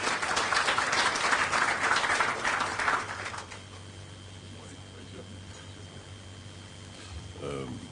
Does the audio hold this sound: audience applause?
yes